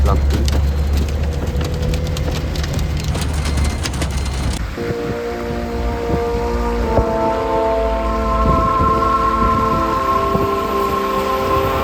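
Rain pelting a car as it drives through dense fog on a hill road in Meghalaya: a steady, close wash of hiss throughout, joined partway through by sustained tonal sounds layered over the rain.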